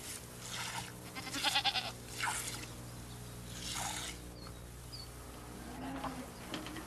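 A family goat being milked by hand in an old rural household, with soft bleats and rustling close by, buzzing flies around, and intermittent squirting and shuffling noises over a quiet ambient hum.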